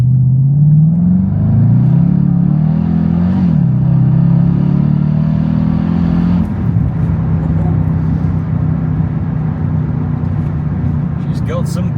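A supercharged Jaguar XFR pulls hard under acceleration, its engine note rising steadily through a gear before a shift and continuing to climb, loud and close from inside the car.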